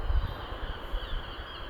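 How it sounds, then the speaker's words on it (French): Seagulls call faintly and thinly over a steady wash of outdoor wind noise, with no talking. "Oh les mouettes là, oh."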